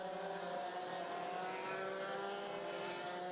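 X30 Junior racing karts scream around the Mariembourg circuit, their high-pitched two-stroke engines droning steadily and close together as a pack, with no speech over the sound.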